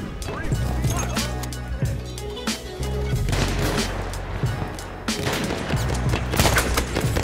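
Battlefield 1 gunfire crackles in repeated bursts and single shots, fairly close and busy, while players talk over the combat throughout.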